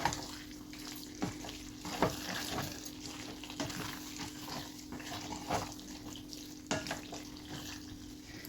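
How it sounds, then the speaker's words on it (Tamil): Black pepper beef masala with a sprinkle of coriander frying in a pan, a steady, soft sizzle with scattered scraping stirs, fairly quiet and continuous with no voices. "கொஞ்சமாக கொத்தமல்லி தூவி நல்லா மிக்ஸ் பண்ணி ஒரு 2 நிமிஷம் நல்லா ஃப்ரை பண்ணி"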